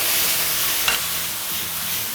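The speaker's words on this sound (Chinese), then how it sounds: "就快速翻炒它" Purple ginger strips and sweet pepper strips stir-fried over maximum heat in a wok with oyster sauce, soy sauce, sugar and salt, giving a steady close sizzle with a brief scrape of stirring partway through.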